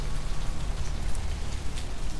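Steady rain pours in the dark city streets of the vampire role-playing game Vampire: The Masquerade – Bloodlines, a dense, even hiss of falling drops heard alone and continuous throughout.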